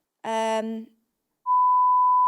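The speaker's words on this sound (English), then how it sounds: "We'll beep it." A short burst of speech is followed by a steady, loud, high-pitched censor beep tone that runs to the end.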